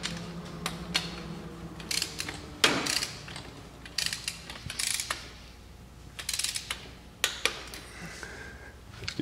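A wrench ratchets in short bursts of clicks while bolts on a 2004 Polaris Sportsman 500 ATV are tightened to 22 foot-pounds in a crisscross pattern. Close metallic ticking comes in separate runs with brief pauses between them.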